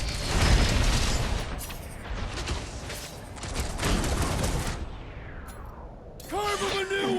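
Dense gunfire and blasts from a battle in the video game Marvel's Guardians of the Galaxy roar loud and continuous, ending with a burst of shouting voices.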